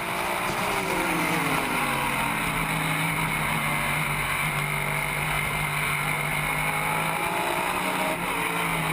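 An Audi race car's engine heard from on board at maximum RPM, a loud, continuous high-revving roar with steady harmonic whine and no break across the whole stretch.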